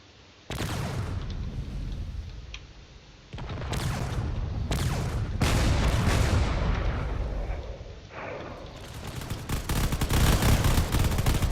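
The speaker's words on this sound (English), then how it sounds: "You can see there's already a lot of missiles being fired here." Missiles firing in a space battle video game come as dense, loud bursts of booming, gunfire-like blasts. Short pauses break them up, then the barrage swells into a continuous heavy volley near the end.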